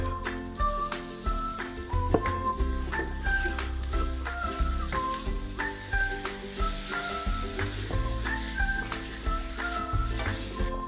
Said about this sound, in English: I'm going to put a bit of chili flakes. And then put in that beautiful beef